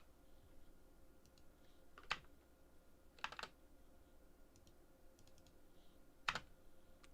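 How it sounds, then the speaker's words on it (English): Sparse keyboard clicks and short bursts of typing on a computer keyboard during a live stock market stream, three distinct clusters of keystrokes over a quiet room background, fairly close and moderately loud. "Oh shoot, stupid keyboard."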